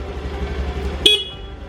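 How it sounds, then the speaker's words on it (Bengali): A rented scooter in the hills of Chakrata, Uttarakhand, gives one short, sharp honk of its horn near the end, loud and close over a low idling rumble. "এইদিকে হর্ন"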